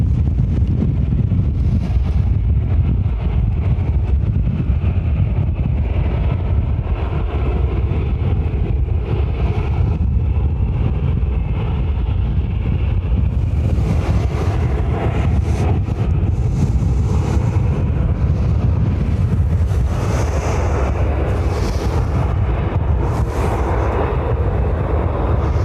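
Ryanair UK Boeing 737-800, sixteen years old, on runway 10R at Dublin Airport, a loud steady low roar that swells from about 13 seconds as engine power rises, mixed with heavy wind buffeting on the microphone.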